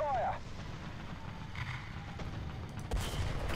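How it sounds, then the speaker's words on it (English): Artillery fire in the War Thunder video game: dull booming shots and rumble in a noisy battle mix, with a voice talking over them. "drop some artillery on them."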